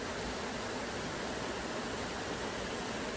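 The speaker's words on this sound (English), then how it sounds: "Waterfall number 3, Lower North Falls." Lower North Falls on the Trail of Ten Falls, a forest waterfall, gives a steady, unbroken broadband rush of falling water, even and full throughout with no voices.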